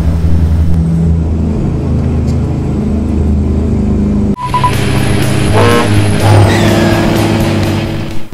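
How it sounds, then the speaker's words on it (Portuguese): Peterbilt 389 with a Cummins X15 and 8-inch straight pipes in American Truck Simulator, engine brake engaged: a loud, steady, low droning rumble that shifts pitch abruptly partway through. "Vamos lá, freio motor."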